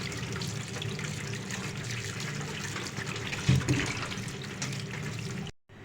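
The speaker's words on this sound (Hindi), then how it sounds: "ये देखें इस तरीके से आपने ये अच्छे से ऐसे ये वॉश कर लेनी है।" Raw mangoes being washed under running water from a tap, a steady close splashing flow that continues alone with no talk and cuts off abruptly at the end.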